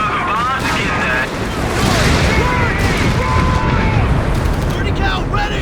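Heavy bomb blasts and rumbling explosions in a Company of Heroes 3 four-versus-four battle, a dense continuous roar of booms and debris with shouted soldier voices mixed in over the din.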